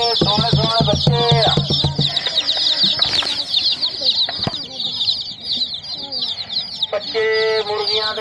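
Young hen chicks peep in rapid high chirps, with clucking from adult chickens nearby, forming a busy, continuous chorus of fowl at close range.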